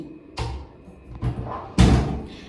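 A door swings open and shut in a 120 sqm condo unit near BTS Ekkamai in Bangkok, with several handle clicks and thuds, the last one loudest, close by and with no talk.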